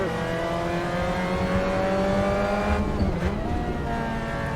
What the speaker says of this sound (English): a little bit aggressive on the downshift there